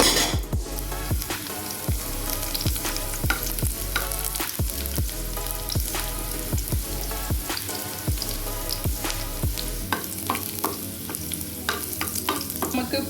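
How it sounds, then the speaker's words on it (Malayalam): Garlic sautéing in oil in a pan for a sardine fish fry masala, a steady close sizzle with repeated scraping and stirring knocks of a spoon against the pan. "അപ്പോൾ അതാ ഞാൻ എണ്ണ ഒഴിച്ചു കൊടുത്തിട്ടുണ്ട് ചട്ടിയിൽ. ഇതാ വെളുത്തുള്ളി കൊടുത്തിട്ടുണ്ട്."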